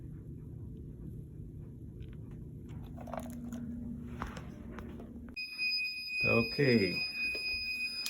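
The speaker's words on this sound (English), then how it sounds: "the alarm's going off." During a battery voltage test, an electronic alarm starts beeping midway as a high, steady tone, after low background hum, while a person talks nearby at the same time.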